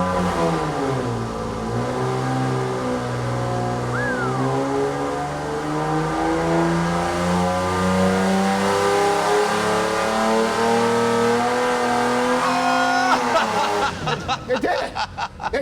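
A modded AMC 258 straight-six revs hard. Its loud, rising engine pitch sweeps up and holds, then drops off near the end with a sputtering break. A brief laugh sounds over it.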